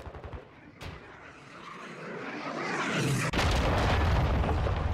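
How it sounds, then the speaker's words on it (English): A cruise missile explodes in Call of Duty: Modern Warfare II multiplayer on the Mercado map, a loud broadband blast that swells into a sustained rumbling roar, preceded by scattered gunfire pops. "Hostile cruise missile incoming!"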